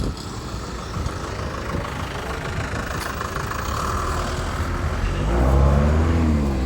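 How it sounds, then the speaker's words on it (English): A small Chinese motorcycle engine idles nearby with a low, rough putter, swelling louder and deeper toward the end. "Mopeds, Chinese motorcycles like that one"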